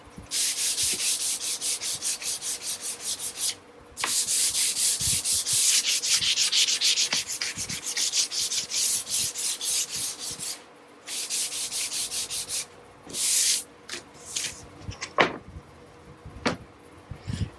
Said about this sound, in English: we got to sand the bottom of this fretboard. I'm using 220 for good glue adhesion